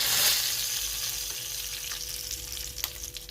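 Dried red chillies fry in hot oil in a home kitchen for a Telugu-style chutney, a steady close sizzle with faint stirring and a few light pops.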